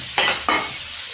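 Thai beef stir-fries with vegetables and coriander in a hot pan, two quick stirring scrapes over a steady close sizzle.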